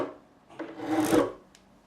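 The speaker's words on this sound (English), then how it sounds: "Wipe the file on each one, otherwise you're going to get bits scraping other frets." A metal fret file rasps once across the frets of a Korean-made BC Rich Mockingbird guitar as they are crowned: a short, soft, close scraping stroke in a quiet room.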